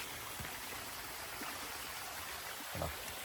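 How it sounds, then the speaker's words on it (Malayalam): A small forest stream flows steadily as a constant close wash of water, with a few faint taps and splashes standing out, no voices. "അത്ര നിശബ്ദമായിരിക്കുമ്പോൾ ഈ അരുവിയുടെ സൗണ്ട് എന്ന് പറയണത് ഒരു അടിപൊളി"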